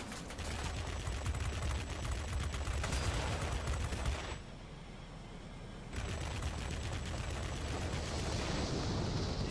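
Sustained automatic cannon fire from an Ilyushin IL-40P attack jet in World of Warplanes, loud dense bursts over engine roar, dropping off briefly in the middle and then picking up again.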